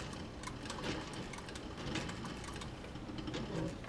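A sewing machine stitches through leather for a camera bag, a steady dense mechanical whir with rapid needle ticks running continuously at low level throughout, no voices.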